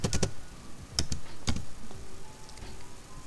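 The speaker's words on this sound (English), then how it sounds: "in the search bar type in AnyDesk" Fingers type a search term on a computer keyboard, a few quick bursts of key clicks near the start and again around one and one and a half seconds, with quiet room noise between.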